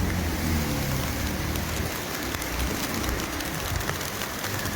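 Steady heavy rain falls on a flooded road, a dense continuous wash of drops and splashes close by, with no voices and a faint vehicle rumble underneath.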